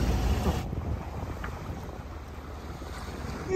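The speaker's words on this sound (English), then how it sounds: "There's the wind right there. Here it comes, the wind." Steady roar of wind from an approaching storm buffeting a sailboat at sea, with rushing air and microphone wind noise throughout, no speech.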